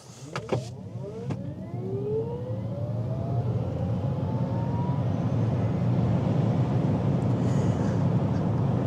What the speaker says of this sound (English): So let's just accelerate.